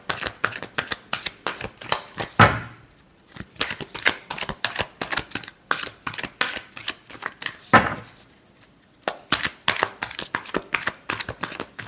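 Tarot cards being shuffled by hand, close and crisp, with rapid riffling bursts in several rounds separated by short pauses and louder snaps as the deck is squared.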